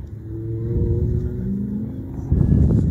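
An Ariel Atom sports car drives hard around the Top Gear racetrack, its engine droning steadily and then surging louder as it accelerates away, fairly close and alone without talk.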